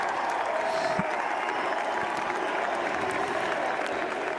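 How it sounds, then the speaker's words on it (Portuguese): Faint, distant crowd applause at a political victory event for the US vice-president-elect, a steady wash of clapping without pause throughout. "e o público aplaude efusivamente"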